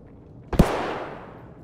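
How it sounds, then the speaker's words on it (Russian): One sharp, loud gunshot in the shooter game Escape from Tarkov, with a long echoing tail that fades out over about a second. "Стрельба, конечно, прикольная"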